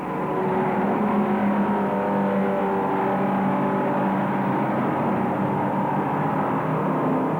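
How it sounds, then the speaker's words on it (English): A 1965 race car at Sebring brakes hard, downshifts and accelerates toward a hairpin, its engine a loud, steady roar with shifting tones throughout and no voices. "It's back off, clutch, downshift, brake, clutch, upshift, and gun it for the warehouse straight, heading for Webster Turn"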